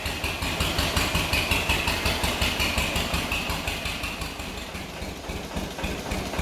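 A John Deere H tractor engine idles low and steady after repairs to a galloping idle, a close, even, rhythmic chugging that softens slightly toward the end, with no voices.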